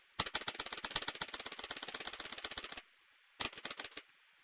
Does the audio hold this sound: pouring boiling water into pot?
no